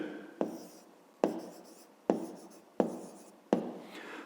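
A pen writes the answer to a fifth-grade math word problem on paper: five sharp taps spaced about a second apart, each followed by a short scratchy stroke, close and clear with no talking.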